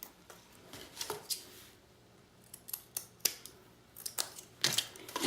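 Scissors cutting lace for an album cover, heard up close as scattered crisp snips and blade clicks with quiet pauses between them.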